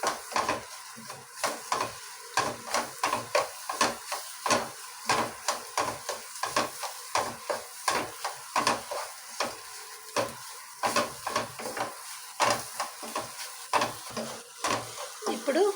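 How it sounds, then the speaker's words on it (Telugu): Meat masala frying in a pan while being stirred, with a steady sizzle under repeated close scrapes of a spoon against the pan in a quick rhythm. "అలాగా మీట్ మసాలా 3 స్పూన్లు, బాగా ఫ్రై చేయాలి."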